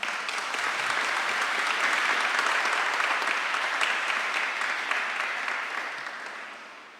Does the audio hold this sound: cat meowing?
no